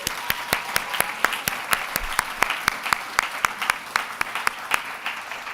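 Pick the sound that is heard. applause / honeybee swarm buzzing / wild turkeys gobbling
applause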